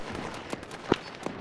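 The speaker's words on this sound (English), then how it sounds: "we're hearing some sort of cannon fire out to the southwest" Distant cannon fire rumbles in a military video game: a few faint, separate booms spaced out in the background, the middle one strongest, with no voices present.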